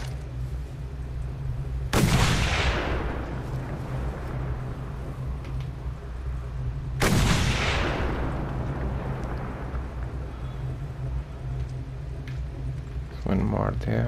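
A sniper rifle fires in the Mad Max video game: two loud, sharp shots about five seconds apart, each trailing into a long rumbling echo over steady game ambience, with a voice speaking during the sequence.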